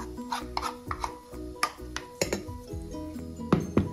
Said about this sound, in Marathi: इथे भांड्याला मी थोडे आपटून घेते आहे, कारण मिश्रणामध्ये कुठलेही एअर बबल्स राहू नये